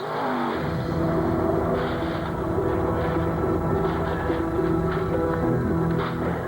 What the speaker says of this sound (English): The sprint car hits the guardrail at 100 miles an hour